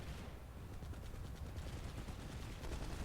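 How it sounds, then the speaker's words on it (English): Dense automatic turret gunfire in a Planetside 2 battle, rapid continuous bursts with a close, rough, crackling texture that stays loud throughout and has no talk over it. "he drops a turret and keeps on shooting"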